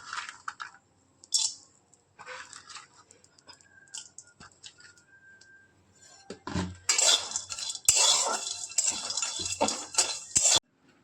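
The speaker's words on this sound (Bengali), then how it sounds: "একাঙ্গি যে পরিমাণ একাঙ্গি নিয়েছিলাম কাঁঠাল চারের জন্য সেটা একটু ভেজে নেব" Ekangi spice dry-fried in a pan for fish bait brings scattered metallic clinks of a utensil at first, then a louder stretch of dense scraping and rustling stirring near the end.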